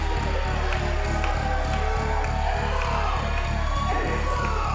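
A crowd at a live wrestling show in a big-top tent cheers and shouts in a loud, continuous roar, with a pulsing low rhythm beating underneath the noise.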